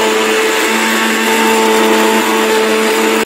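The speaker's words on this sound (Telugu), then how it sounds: "ఇలా ఉల్లిపాయలు వేసిన తర్వాత కొంచెం కచ్చాపచ్చాగా మిక్సీ పట్టుకోవాలి" Kitchen mixer grinder coarsely grinding coconut and onions for an onion chutney. A loud, steady motor whine runs close up and alone for a few seconds, with no one talking.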